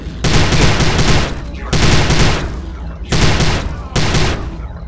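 Loud bursts of rapid automatic gunfire in the video game Prey (2006), four long volleys separated by brief gaps, close and harsh.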